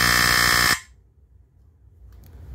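A FireX FXC-1 linecord smoke alarm's electromechanical horn blares loud and harsh at close range for under a second, then cuts off abruptly, leaving only faint room noise.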